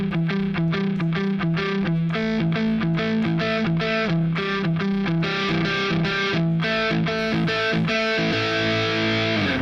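A distorted electric guitar plays the verse riff of a song, with repeated chugging, strongly rhythmic chords and single notes, loud and close, with no voices.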